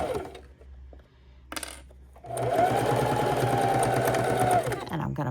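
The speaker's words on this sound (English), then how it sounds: "I'm going to be stitching a 1/4 inch all the way around." A sewing machine stitches a quarter-inch seam around a fabric drink coaster made from scrap squares. After a few quiet clicks, a loud, steady mechanical whir starts and runs for several seconds before slowing down.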